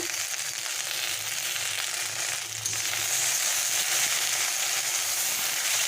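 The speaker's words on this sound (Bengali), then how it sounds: "তো ভেন্ডিগুলো আমার ভাজা হয়ে গেছে" Okra (bhindi) frying in a pan with a little salt for a Bengali-style bhindi do pyaza crackles in a continuous, close sizzle that grows slightly louder partway through. No voices are heard.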